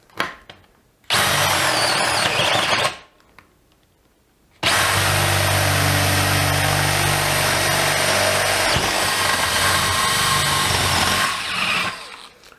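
A DeWalt 12V brushless DCD701 cordless drill bores into material and strains under load, first in a short whining burst, then a pause, then a long sustained grinding run whose pitch sags as it struggles before cutting off.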